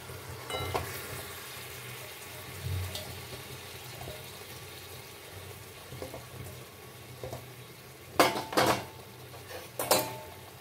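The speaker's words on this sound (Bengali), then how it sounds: "টমেটোটা ফুটে উঠেছে, এর মধ্যেই আমি মাখিয়ে রাখা মাটনটা অ্যাড করে দিচ্ছি" Marinated mutton dropped into tomatoes frying in a pan, with a steady close sizzle and occasional utensil clatter and stirring knocks that grow louder toward the end.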